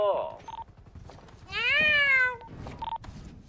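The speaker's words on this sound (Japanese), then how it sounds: "ああ、猫か。" A cat meows in the video game GTA, several short mews and one long drawn-out call, faint and close, with soft clicking between them.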